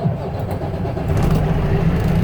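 A diesel truck engine starting and settling into a rough, throbbing idle at close range, steady and loud for the short clip.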